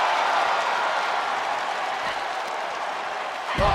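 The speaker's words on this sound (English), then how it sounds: "With every move you make, you hear this capacity crowd following you on that journey." Capacity arena crowd in the WWE 2K wrestling video game, a steady wash of cheering and applause filling the whole clip at a constant level, with a brief swell near the end.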